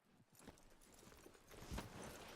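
Horse hooves clop at a walking pace in the Red Dead Redemption 2 game, faint and soft with a quiet, even rhythm.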